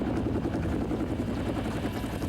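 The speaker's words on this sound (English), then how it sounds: "Lithgow's character, Quaylen, is approaching him with a helicopter." Helicopter in a mountain action film scene, a loud continuous rotor thump and engine roar, close and steady, with no talk.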